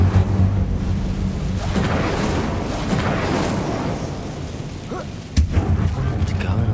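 The Incendio fire spell is cast in the Hogwarts Legacy video game, a broad, rumbling burst of flame that whooshes steadily for several seconds before a sharp closing crack.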